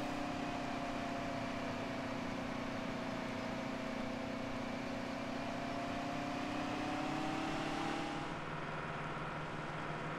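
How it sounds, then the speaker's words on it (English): A heavy Big Bud tractor engine in Farming Simulator 17 drones steadily and loudly while planting sugar beets, its tone gradually rising as it strains under load, then shifting lower near the end. "I really want you folks to listen to the sound of the tractor here"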